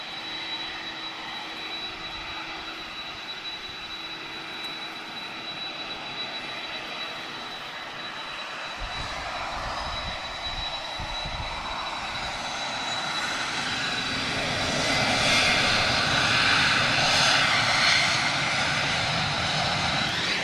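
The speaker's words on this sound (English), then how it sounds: "Oh, listen to those CF6 engines." A jet airliner powered by CF6 engines at Lisbon Airport gives off a steady, broad roar that swells louder through the second half, with no voices over it.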